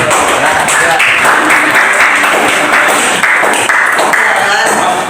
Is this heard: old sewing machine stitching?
no